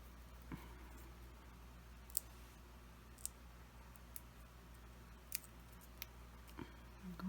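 Scissors snipping paper cutouts for a handmade Mother's Day card, a few separate quiet clicks and snips spread over a steady faint room hiss, with no talking.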